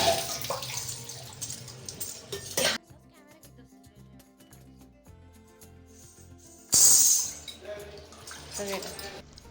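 Water sloshes and splashes over small metal ankle bells (ghungroo) being rinsed after cleaning with citric acid; they jingle faintly, with a louder rinse burst near the end and a voice talking underneath.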